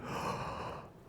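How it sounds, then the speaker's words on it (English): A person yawns once, a brief, close, breathy exhale that fades out quickly with nothing else audible. "Oh, I had to yawn."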